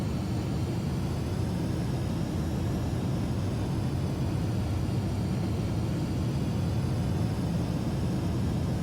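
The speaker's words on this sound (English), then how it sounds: "Using the air brakes right now, trying to slow down." An F-5E Tiger II jet in the DCS flight simulator roars steadily in the cockpit with air brakes deployed, a continuous loud engine and rushing wind noise with a faint high whine above it, no talk.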